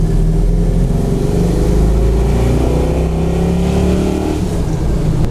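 A 1985 GMC 1500 pickup truck's large engine drones loudly and steadily while driving, a deep rumbling tone with no breaks and no voices.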